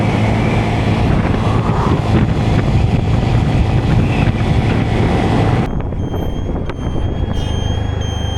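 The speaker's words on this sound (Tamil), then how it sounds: "நல்லா காற்று அடிக்குது" Strong wind roars steadily into the microphone, loud and buffeting, then eases somewhat toward the end.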